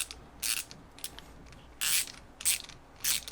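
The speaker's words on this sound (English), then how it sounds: "Very nice having a ratcheting option" A ratcheting tap and die handle is worked back and forth, producing short bursts of crisp mechanical clicking, about six quick ratchet runs spaced irregularly, close and clear with no talking.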